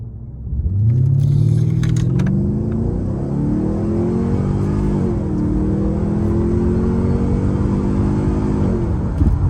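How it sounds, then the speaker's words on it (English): Mercedes CL500 with a 5-litre V8 and straight-pipe exhaust accelerating hard from a standstill to 100 km/h, a loud, close, rising engine roar that climbs through the gears with brief dips at each shift. "let's find out how fast this car is from 0 to 60 or 0 to 100 kilometers an hour"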